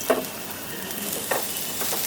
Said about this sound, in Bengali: পটলটাও ভেজে নেব।